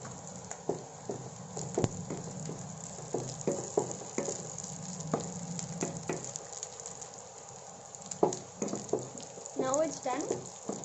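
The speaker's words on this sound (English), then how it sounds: "Roast it until it turns like light brown." Raisins roast in a hot pan for an Iyengar-style akkaravadisal sweet, with a soft sizzle, scattered clicks of stirring against the pan, and a voice speaking over the cooking.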